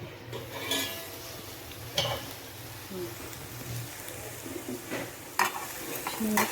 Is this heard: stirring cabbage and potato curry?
yes